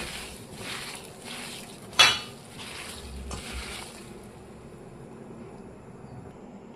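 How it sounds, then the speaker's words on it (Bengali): Soybean chunks being mixed by hand with white oil and ginger garlic paste in a bowl give soft, steady squishing and rubbing, with one sharp clink of a utensil partway through and the motion trailing off into quiet. "আমি এবার এটাকে পুরোটা ভালো করে মাখিয়ে নিচ্ছি।"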